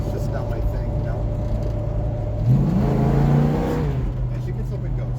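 A 1965 Ford Mustang with a V8 and a shift kit idles with a low rumble, then revs up hard as it pulls away. The engine note climbs and holds before settling back to a steady drone.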